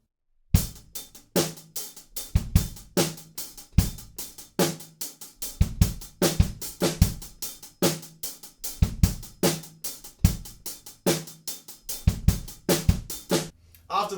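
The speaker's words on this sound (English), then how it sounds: "From there, we move the hats into 16th notes just to kind of lift things a little bit" Full drum kit playing a steady rock groove with hi-hats on driving 16th notes, punchy kick and snare accents and crashes, closing on a short fill, loud and close with no talking.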